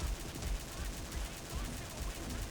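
Rapid gunfire in the shooter game XSHOT, a steady, fairly quiet stream of repeated shots with regular pulsing bursts blending into a dense noisy mix.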